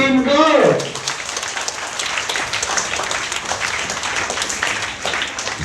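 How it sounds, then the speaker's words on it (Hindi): Audience applause at a primary-level Hindi quiz, a steady crowd clapping that continues after a brief spoken voice at the start. "कृपया आपकी तालियों से आसमान गूंजना चाहिए टीम को।"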